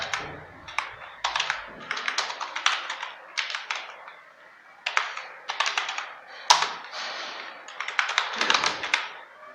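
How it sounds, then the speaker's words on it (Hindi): Rapid bursts of keystrokes on a computer keyboard while a project name is typed into a Word document, clattering in uneven runs with brief pauses between words, close and clear with no talking. "मैं यहाँ पे प्रोजेक्ट का नाम टाइप कर देता हूँ।"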